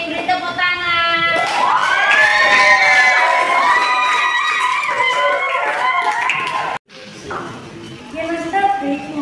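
A class cheers and claps in an excited burst, with children shouting and high voices filling most of the stretch, a brief drop-out, then more lively crowd noise.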